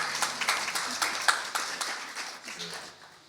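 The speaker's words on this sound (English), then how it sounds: "You have another applause for her." An audience at a small music showcase claps in a brief round of scattered, individually audible hand claps that taper off toward the end, fairly faint and somewhat distant.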